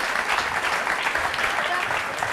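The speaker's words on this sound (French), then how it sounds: "On vous applaudit très fort." A studio audience on a French talk show applauds loudly and steadily, a dense, continuous clapping that fills the whole moment, with a few voices mixed in.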